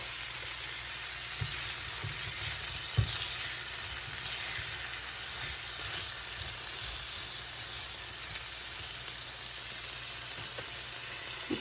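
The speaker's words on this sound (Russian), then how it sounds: "пускай они обжарятся минутки две" Pre-boiled shrimp frying in a pan for a creamy garlic sauce, a faint steady hiss like light rain that runs throughout, with occasional soft taps.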